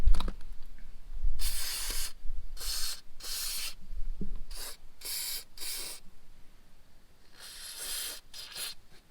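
Liquid red grease sprays from an aerosol can in several loud hissing bursts of varying length, separated by short pauses, with faint handling noises underneath.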